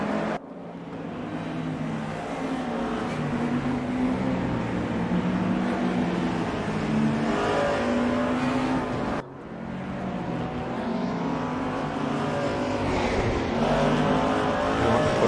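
Race cars including a BMW and a Mustang lapping in a sim racing video game, engines droning loudly and continuously with shifting pitch, a brief cut midway before the roar resumes.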